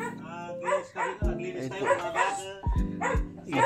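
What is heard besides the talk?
dog barking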